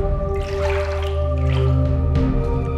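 Water drips in a prison shower in a Korean film, soft wet drops landing against a steady humming tone that runs through the whole stretch.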